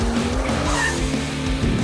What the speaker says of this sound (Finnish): 370 hevosvoimaa kiihdyttää tämän kokoluokan autoa enemmän kuin riittävästi.